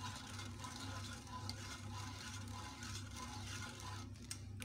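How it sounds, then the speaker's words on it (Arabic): Milk and starch mixture being stirred in a pot over heat, a quiet, continuous scraping and swishing with faint bubbling and light clicks from the utensil, no speech. "الخليط ديالنا هو فوق النار، والعافيه تكون مهيله، ما نتوقفوش على التحريك"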